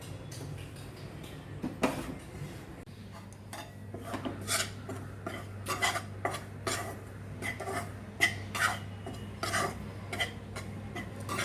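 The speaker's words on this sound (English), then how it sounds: "Let us roast the gram flour." Gram flour roasting in a pan on the stove, stirred with a utensil that scrapes and clinks against the metal in steady, quiet strokes, alone with a low hum beneath.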